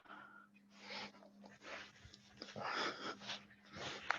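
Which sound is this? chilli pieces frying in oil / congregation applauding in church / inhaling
inhaling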